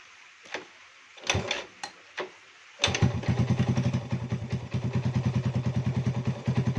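A Yamaha Vega R engine fitted into a Jupiter Z motorcycle is kicked over a few times, then fires and runs with a close, loud, rapid single-cylinder putter that stays steady to the end.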